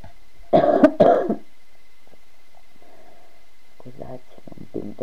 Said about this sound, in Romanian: Scuzați, un pic de tuse.